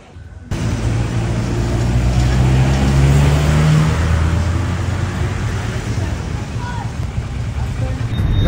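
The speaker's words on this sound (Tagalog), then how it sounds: "sobrang traffic dito sa Marawi o papasok ng Marawi" Heavy road traffic at a junction on the approach to Marawi, Philippines, with a close, continuous engine rumble and vehicles moving past, plus a low hum that holds steady throughout.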